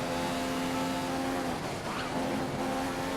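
Formula 1 car engine in the F1 2015 racing game at the British GP, a steady loud high-pitched whine with a brief dip and recovery as it pulls out of a corner, with no talk.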